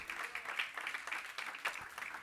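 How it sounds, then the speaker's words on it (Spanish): A church congregation claps for the Lord during a Spanish-language sermon, a moderately loud, fluttering stream of many hands with small surges, no speech over it. "Dale palmas al Señor."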